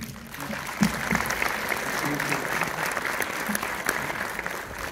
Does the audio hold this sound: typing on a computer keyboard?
no